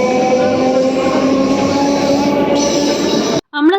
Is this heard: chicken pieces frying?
no